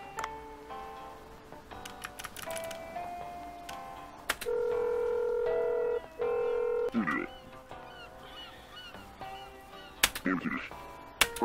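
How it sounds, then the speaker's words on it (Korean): Phone dialing in the video game Dave the Diver sounds as a string of short electronic keypad beeps and tones, with two sustained tones in the middle and some sharp clicks near the end, over quiet game background. "반추한테 전화를 먼저 해야 돼"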